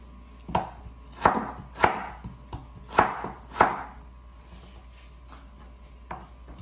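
Knife chopping through potato ends on a cutting board while making homemade fries: five sharp, fairly loud chops in an irregular rhythm, then a fainter sixth cut, with no talk.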